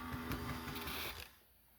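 A Pennsylvania Railroad Doodlebug model locomotive with cracked gears runs with a steady, dense mechanical whir and grinding hum that cuts off after about a second, leaving quiet.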